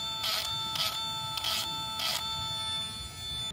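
A Dremel rotary tool deburrs stainless steel, a high steady whine with four short, evenly spaced bursts of harsher grinding as the bit touches the metal, close and alone.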